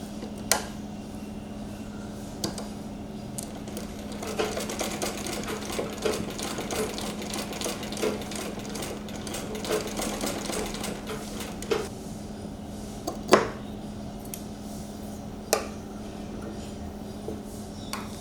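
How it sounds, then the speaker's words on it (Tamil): A sewing machine stitching silver lace onto a fabric sleeve, a steady close mechanical whir with a constant hum and occasional small clicks, running without talk. "இப்போ இந்த இடத்துல நான் வந்து இந்த சில்வர் லேஸ் வச்சு நான் ஸ்டிச் பண்ண போகிறேன்."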